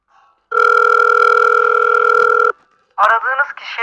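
A telephone ringback tone for a call that goes unanswered sounds as one steady, loud electronic tone lasting about two seconds, followed by a short burst of automated or spoken voice.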